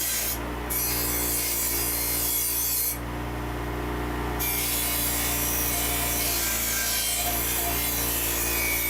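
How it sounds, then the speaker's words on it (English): A Harbor Freight bench grinder used to clean car parts runs steadily and loudly throughout, with a constant low hum and a harsh high-pitched grinding whine that cuts in and out. "the grinder, bench grinder, great. It's loud, I know."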